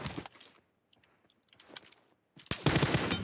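PUBG Mobile gunfire: short bursts of automatic shots, sharp and close, separated by quiet gaps, then a dense loud volley at the end.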